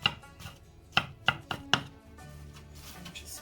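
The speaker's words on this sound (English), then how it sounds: "You just can cut like this and cut them in strips." Mushrooms being sliced into strips with a knife on a cutting board, several crisp, close chopping knocks: one at the start, then three quick cuts in a row, followed by quieter scraping and handling.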